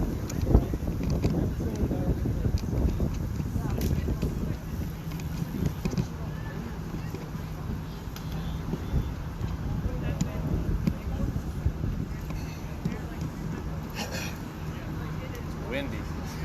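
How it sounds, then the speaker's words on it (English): Buffeting wind rumbles against the microphone throughout, a steady low roar with gusty thumps, with some faint voices underneath. "Windy."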